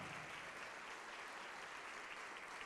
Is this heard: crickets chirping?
no